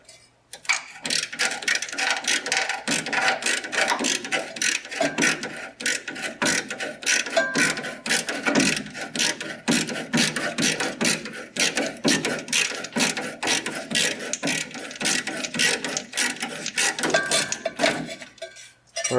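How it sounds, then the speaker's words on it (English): A ratcheting screwdriver loosens the clamp on the lower radiator hose of an abandoned 1962 AMC Rambler engine, giving a rapid, steady run of close, crisp ratchet clicks for about eighteen seconds with no talk. "ratcheting screwdriver."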